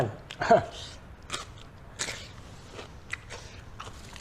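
Crunchy Thai soi ju being chewed close to the microphone, a sharp bite followed by repeated crisp crunches at an uneven pace.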